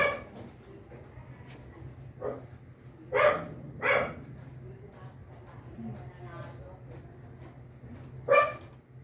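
A dog barks a few sharp times at close-to-middle distance over a street scene, with separate loud yaps spaced irregularly and people talking throughout.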